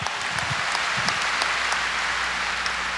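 A church congregation claps during a 1992 Sunday worship service, a dense and even wash of applause filling the room with no voices over it.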